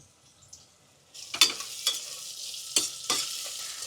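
Carrots and peas frying in oil are stirred in a pan for a pasta dish: near, soft scraping strokes over a steady sizzle that starts after a quiet second.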